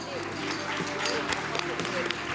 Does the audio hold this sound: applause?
yes